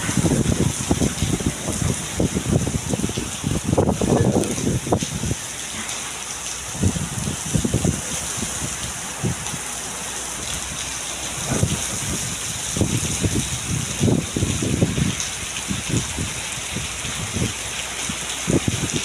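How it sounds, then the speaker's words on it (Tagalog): Heavy rain in Riyadh pours steadily throughout, a dense broadband hiss with bursts of louder drumming on surfaces, no voices. "napakalakas ng ulan ngayon oh"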